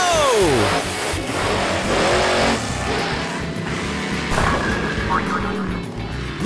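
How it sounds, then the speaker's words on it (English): A toy monster truck rolls and crashes into bowling pins amid loud, busy engine-like roaring and clattering, with children's-show music or voices mixed throughout; several sharp bursts punctuate the steady din. "Looks like the monster truck knocked down even more pins."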